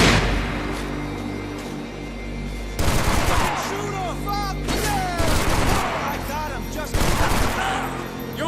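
Bursts of gunfire in the Max Payne 3 video game, loud sustained volleys of rapid shots that swell and ease several times, with voices shouting amid the shooting.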